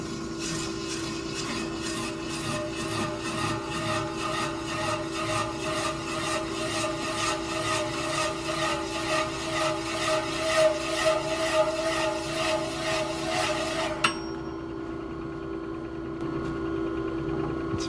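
A custom-built cymbal lathe cuts into a metal cymbal, throwing off shavings with a steady rasping, scraping drone and a faint rhythmic pulse, close and continuous before it stops abruptly near the end, leaving a quieter hum.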